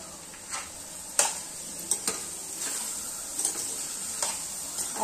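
Grated carrots frying for gajar halwa in a pan, a soft steady sizzle broken by several sharp scrapes and clinks of a spoon stirring against the pan, close and fairly quiet.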